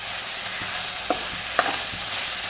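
Chicken curry being stirred with salt in a pan, steady sizzling frying hiss throughout with a few soft scraping clicks of the spoon, close and alone.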